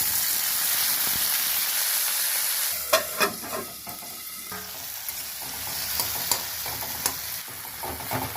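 Tomatoes fry in oil in a kadai, with a steady loud sizzle and hiss, broken by a few stirring clanks and scrapes of a spatula against the pan.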